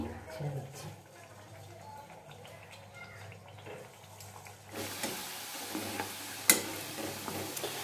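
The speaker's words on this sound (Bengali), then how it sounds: "মিডিয়াম টু লোতে এগুলো সব ভাজতে হবে।" Food fries in a pan on medium-low heat, a soft sizzle that turns louder and brighter midway as more goes in, with a sharp clink near the end and a person speaking briefly.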